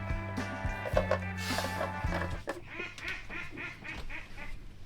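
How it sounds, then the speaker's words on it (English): A duck quacks repeatedly in nasal bursts, fairly close, with a steady low hum running underneath and some clattering later on. "There's a duck outside that keeps on sounding like it's laughing at me."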